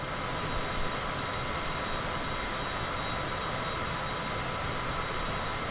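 A Cessna aircraft engine in Microsoft Flight Simulator drones as a steady, loud, unbroken roar in flight, with no talk over it.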